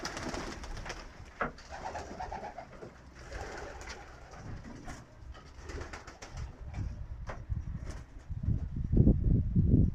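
Pigeons coo repeatedly at close range, soft throaty calls overlapping, with some shuffling and a louder burst of cooing near the end.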